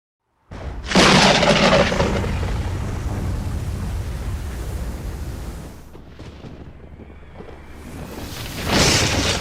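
A fierce thunderstorm over the sea strikes a ship, with a sudden loud booming crash of thunder followed by a long rumbling roar of wind and waves, then a second swell near the end.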